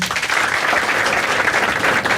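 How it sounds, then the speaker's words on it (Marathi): Audience applause at a Marathi stand-up comedy crowd-work show: dense, steady clapping from a full room, loud and sustained throughout without a break. "एकदा टाळ्या वाजायची आणि सगळ्यांनी."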